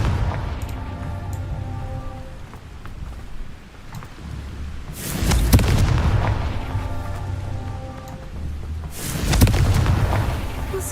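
Two heavy, booming Confringo spell explosions in the video game Hogwarts Legacy, each roaring for a couple of seconds over steady game music and ambience.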